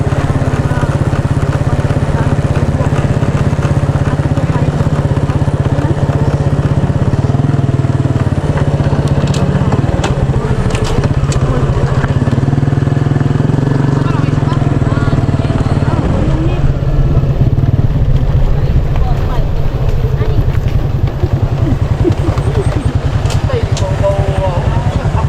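A motorcycle engine runs continuously near the microphone, a steady droning hum with rough crackle, while people talk over it in Mindanao.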